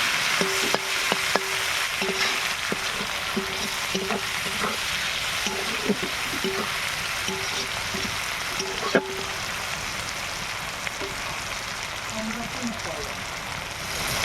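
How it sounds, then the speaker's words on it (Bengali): Onion and tomato fry in a pan, a steady broadband sizzle running throughout with occasional stirring clinks and scrapes, close and moderately loud, with a voice speaking briefly over it. "পেঁয়াজটা ভালো করে ভেজে নেব।"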